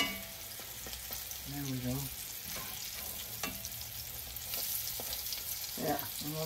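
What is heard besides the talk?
salmon cakes frying in a pan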